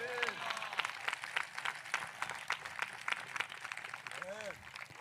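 A congregation claps in quick, steady rhythm during a Telugu Christian sermon, the sharp claps packed close together and fairly loud, with a voice speaking over them.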